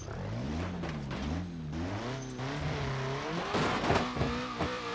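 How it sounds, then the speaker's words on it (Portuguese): A VW Passat turbo engine in the BeamNG.drive video game revved hard until it blows up, the pitch sweeping up and down repeatedly with rising strain, then harsh bursts near the end. "Vamos tentar fundir o motor dele agora"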